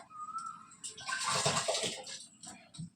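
Rice being washed, water swishing and splashing in a container for a moment, quiet and close, framed by small clinks and a faint whistle-like tone.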